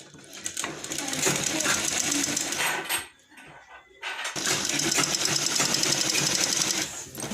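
A sewing machine stitches the sleeves onto a lined blouse in two long loud runs of rapid mechanical whirring, with a brief pause in between where only faint handling sounds remain.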